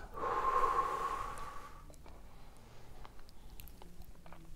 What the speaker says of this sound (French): Soufflez lentement.